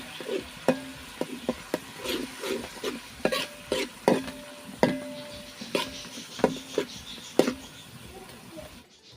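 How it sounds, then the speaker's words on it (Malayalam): Ginger and garlic paste sautéing in a pan over a wood-fired stove, a soft sizzle under frequent sharp scraping and tapping strokes of a spoon against the pan, close and irregular. "ആദ്യം ഇഞ്ചി ഇട്ട് പിന്നെ വെളുത്തുള്ളി ഇട്ട് അതിൻ്റെ ഒരു പച്ചമണം പോകുന്ന വരെ ഒന്ന് വഴറ്റിയെടുക്കാം"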